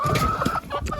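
Chickens cluck in short, close bursts while pecking at table scraps of vegetables and salad peelings, a brisk flurry of soft clucks over about a second.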